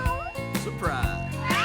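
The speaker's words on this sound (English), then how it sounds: "and the cat led the tour." A cartoon cat from the tale of Puss in Boots gives a couple of short meows, mixed in with a narrator's voice and background music.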